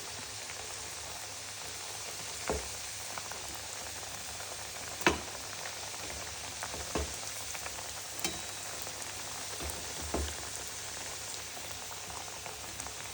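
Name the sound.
chakli frying in oil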